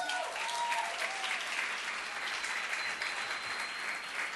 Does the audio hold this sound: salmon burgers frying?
no